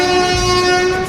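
A train sounds its horn at Renigunta station platform, a loud, sustained tonal blast held steady throughout with a low rumble beneath, no talking.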